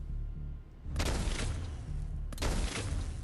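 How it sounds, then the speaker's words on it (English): A machine gun turret in the game Fallout 4 fires in two long, loud, continuous bursts, each a dense, roaring rattle of rapid shots with a brief lull between them. "What have we got here? Machine gun turret, eh?"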